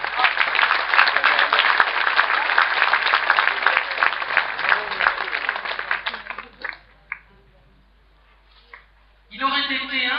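Sustained crowd applause at a Bellecour pétanque (sport boules) event, a dense wash of clapping for about six seconds that thins into scattered claps and then falls quiet before a voice begins at the end.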